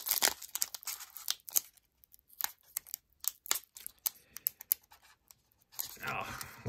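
Tightly packed Upper Deck Artifacts hockey card pack being torn open, irregular crinkling, ripping and rustling of foil wrapper in close bursts, with someone talking in between.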